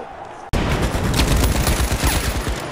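Rapid automatic gunfire from a fast-paced shooter match in The Finals erupts after a brief quiet moment and keeps going as a dense, loud, continuous burst of shots.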